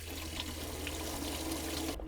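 Water runs steadily from a faucet in a converted van, a constant close trickle that cuts off abruptly near the end.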